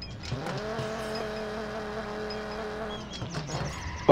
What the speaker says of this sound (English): Over rev the engine, that is fine.